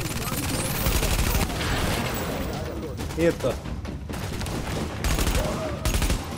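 Dense gunfire from The Division video game, bursts of automatic fire and volleys overlapping nearly continuously, with a man briefly exclaiming over the shooting.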